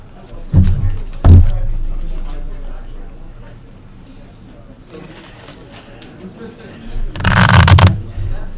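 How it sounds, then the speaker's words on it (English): A deck of playing cards is run through a couple of waterfall shuffles, giving quick riffling bursts near the start and again at the end, with a voice talking quietly underneath between them. "So we'll do a couple waterfall shuffles like so."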